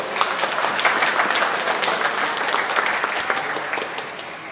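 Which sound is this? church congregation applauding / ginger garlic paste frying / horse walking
church congregation applauding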